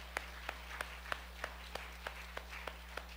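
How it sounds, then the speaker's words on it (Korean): Church worshippers in a Korean service clap in steady unison, about ten evenly spaced sharp claps roughly three per second, fairly faint against a constant low electrical hum. "우리 하나님 앞에 다시 한번 박수를 한번 영원 돌리겠습니다."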